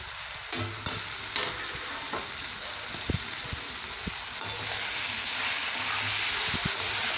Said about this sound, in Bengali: ধনেপাতা কুচি দিয়ে আবার একটু মিশিয়ে নেব পুরোটা একসাথে।